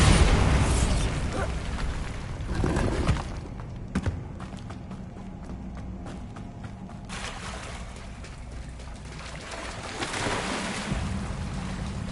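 Bombarda blasting spell in Hogwarts Legacy, a loud opening blast followed by crumbling debris, a couple of sharp pops, and a lower rumbling tail with another swell near the end.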